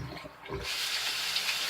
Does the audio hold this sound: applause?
no